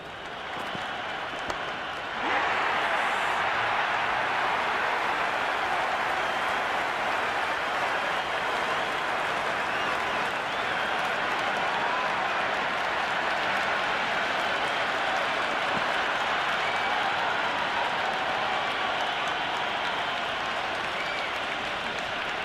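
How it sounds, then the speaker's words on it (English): A large cricket crowd in the video game Cricket 26 breaks into sustained applause and cheering, rising sharply after a quiet start and holding as a dense, even roar of clapping for about twenty seconds. "It's almost palpable, the excitement emanating from this crowd at the moment."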